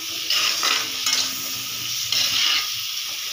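Prawn masala fries in a pan, a loud, close, continuous sizzle that swells in short bursts as it is stirred.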